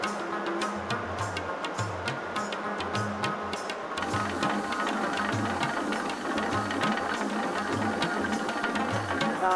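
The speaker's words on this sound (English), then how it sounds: "We are in a traditional mill building where they grind the wheat, and we are also right next to a micro hydro plant" Traditional wheat-grinding mill in a village building beside a micro hydro plant in Afghanistan, giving a steady, loud mechanical clatter with a rapid repeating rhythm and low rumbling beats, continuous throughout.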